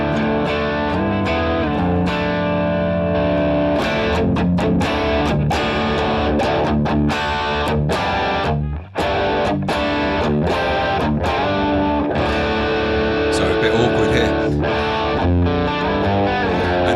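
Electric guitar through a BOSS GT-1000 set to its X Crunch amp at high gain, playing loud, dense distorted chords and riffs continuously, with one brief dropout near the middle.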